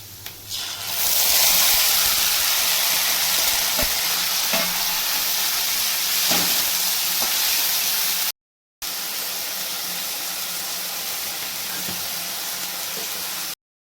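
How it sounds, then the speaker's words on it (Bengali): Water spinach greens hit a hot pan and burst into a loud, hissing fry that settles into a steady sizzle with faint stirring scrapes, briefly cutting out near the middle before resuming. "ভেজে নিয়েছে এখন শাকটাকে দিয়ে দেবো"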